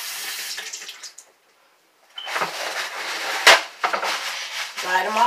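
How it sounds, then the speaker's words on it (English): Running tap water splashes over hands at a sink, a steady hiss that cuts out briefly and returns with a few sharper splashes, fairly close. "Most definitely wash my hands."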